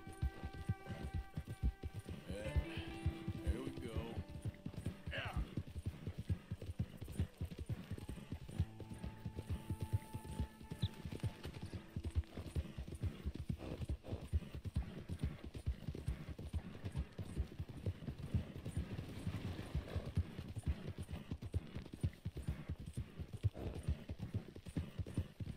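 Steady clip-clop of horse hooves trotting in a continuous rhythm in Red Dead Redemption 2 on PS5, with a brief whinny early on and faint mechanical noises behind.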